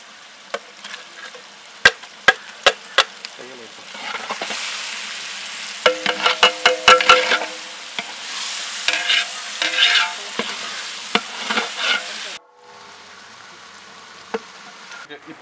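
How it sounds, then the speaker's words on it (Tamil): Ginger garlic paste sautéing in a pan while making a prawn gravy, a steady frying sizzle with sharp spoon scrapes and clinks against the pan, close and loud, with no talking. "இப்போ வந்து இஞ்சி பூண்டும் வந்து போட்டோம் இல்லைங்களா, அதுவும் வதங்கிடுச்சு"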